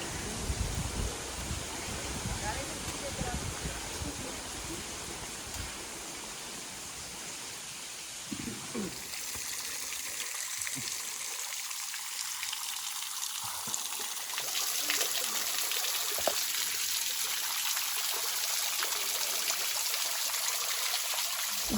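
Steady broadband rush of the Krushuna waterfall in Bulgaria, flowing water filling the whole stretch at moderate level, shifting slightly in tone as the listener moves closer, with no talk.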